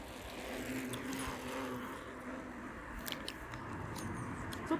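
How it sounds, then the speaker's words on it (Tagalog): Cars pass along a road during an evening walk, a faint, continuous rumble of traffic swelling and fading at a distance, with a few small clicks and knocks close by near the end. "Ang dami naman sasakyan na dumadaan."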